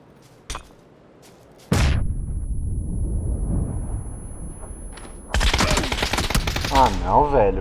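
Gunfire in a shooter video game: a sharp early shot, then a loud, dense barrage of shots and blasts that continues to the end.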